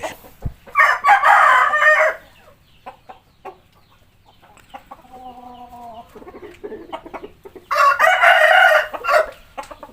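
A rooster crows loudly twice, near the start and near the end, with soft chicken clucking and scattered farmyard noises in between.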